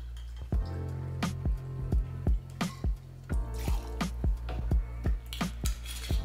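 50 ml of vodka pours from a bottle for a Moscow Mule as a run of close, evenly spaced glugging plops. The sound is quiet and rhythmic, with no talk over it.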